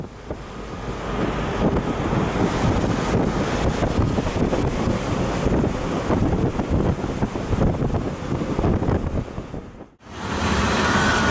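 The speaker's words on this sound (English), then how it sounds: "This is what a moderate storm in the severe northern seas looks like." A moderate storm in northern seas, with waves around three meters: loud, continuous wind buffeting the microphone over crashing surf, broken by a brief drop near the end before the roar resumes.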